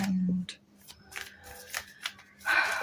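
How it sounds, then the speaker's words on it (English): Quick papery riffling and soft card snaps of tarot cards being shuffled, several short bursts of shuffling close by, fairly quiet. "I'll shuffle certain cards"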